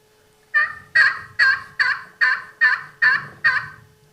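A hand-operated turkey call mimics a hen turkey's yelp: eight sharp, evenly spaced yelps in quick succession, loud and close, with no talking over them.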